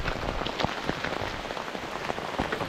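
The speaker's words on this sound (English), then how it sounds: "and it's raining." Steady rain patters on a surface close by on the Appalachian Trail at Bly Gap, on the North Carolina–Georgia border, a dense continuous hiss with scattered sharper drops, and no voices.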